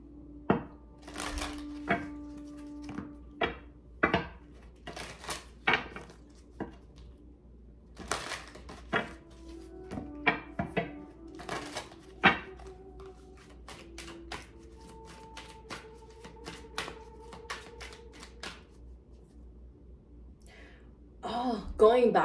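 A deck of tarot cards is shuffled by hand in quiet, irregular bursts of crisp taps and riffling clicks, spaced across the span over a faint background hum.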